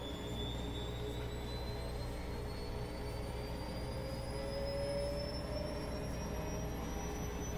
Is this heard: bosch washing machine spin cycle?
yes